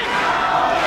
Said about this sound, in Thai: ดูเสียงเชียร์มานะครับ